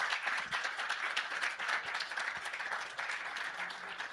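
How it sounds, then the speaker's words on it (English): Steady audience applause at an awards event honoring influential women, a dense, even wash of many hands clapping throughout at moderate distance. "Please give Mr. Balsara a big round of applause."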